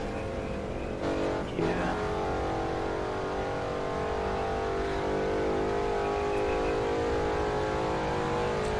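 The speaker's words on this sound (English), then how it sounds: "This thing sounds aggressive for an SUV." A Jeep SUV in The Crew 2 racing game drives through snow with its engine droning steadily and loud, rising a little in revs toward the end, after a couple of brief knocks near the start.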